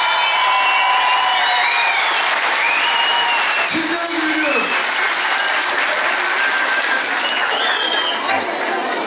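Crowd applause at a women's branch political gathering, a long, loud, sustained roar of clapping, with someone speaking briefly over it midway.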